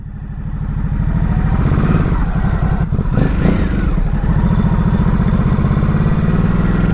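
A 2020 Ducati Super Sport motorcycle on a test ride, its engine giving a loud, steady rumbling drone with a slight dip and rise in revs midway, heard close without talk.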